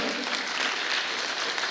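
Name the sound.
audience applause at kindergarten graduation ceremony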